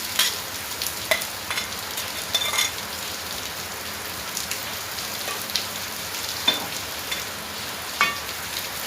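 Minced meat (keema) fries in a pan with coriander for keema masoor biryani, giving a steady broadband sizzle with occasional sharper crackles and stirring scrapes, close and moderately loud, no voices.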